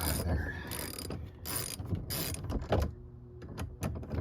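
A socket wrench loosening a seat belt bolt in a 2024 Subaru Crosstrek, heard as rapid close ratcheting clicks in bursts, with metallic knocks and brief pauses between strokes.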